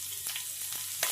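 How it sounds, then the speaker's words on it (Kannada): Chopped green chillies frying in hot oil, a steady close hiss of sizzling broken by a few soft pops and stirring scrapes over about a second. "ಸ್ವಲ್ಪ 2 ಗ್ರೀನ್ ಚಿಲ್ಲಿ ಕಟ್ ಮಾಡಿರೋದು ಹಾಕೋತಿದ್ದೀನಿ"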